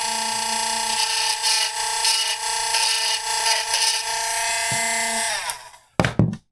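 Small high-speed rotary tool grinding old glue out of a Teenage Mutant Ninja Turtles Triceraton toy action figure, heard as a close, steady high-pitched whine with shifting load, winding down near the end before a few short bursts.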